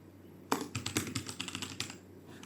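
Fingers type a short Python print statement on a computer keyboard, with a quick burst of about a dozen crisp, close keystrokes followed by a quieter pause.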